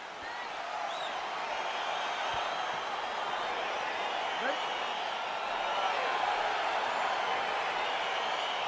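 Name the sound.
crowd cheering as UFC fight begins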